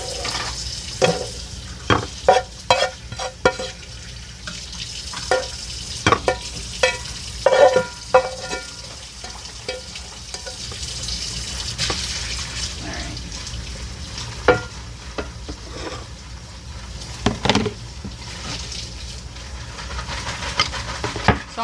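Green beans sizzle in a pan over a steady frying hiss, with frequent clicks and scrapes of stirring and utensils throughout.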